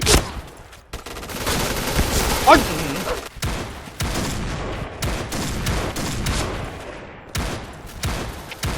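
A high-capacity shotgun fires a rapid string of loud, sharp blasts in quick succession, with brief gaps between bursts, while voices talk over the gunfire.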